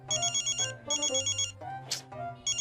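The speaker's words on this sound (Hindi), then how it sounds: "ये वाला फोन बज रहा है" A phone ringtone plays a repeating melodic pattern of bright electronic tones in bursts, with a short hiss-like noise in between; no one speaks.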